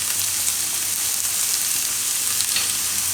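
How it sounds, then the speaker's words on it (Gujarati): Onions cooking in a pan with green garlic, ginger and chillies for a Gujarati mustard greens curry, a dense, continuous loud sizzle heard up close and alone, without pauses or talking. "ને ડુંગળી ચડી જાય ત્યાં સુધી એને પાકવા દેવું."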